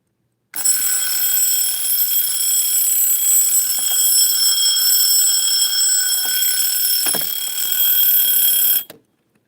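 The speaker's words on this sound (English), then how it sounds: "I believe it would be a travel alarm clock." Travel alarm clock ringing with a loud, steady, shrill electronic tone for about eight seconds, starting and stopping abruptly, with faint handling clicks underneath.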